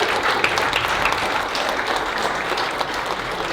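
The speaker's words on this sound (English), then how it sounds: "I would like you to give yourself a big applause" A conference keynote audience applauds, a dense, even wash of clapping from many hands that holds steady and loud throughout, with no speech over it.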